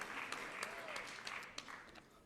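An audience claps for donors at a temple fundraiser, a quiet, steady patter of hands heard from a distance with a few sharper claps standing out.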